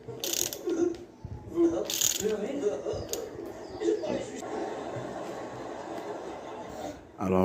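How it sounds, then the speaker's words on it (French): A ratchet fitted with a 24 mm socket tightens an oil catch can in a garage, giving repeated clicking bursts at close range, spaced out across the clip, with someone talking in between. "douille 24, on va serrer tout ça"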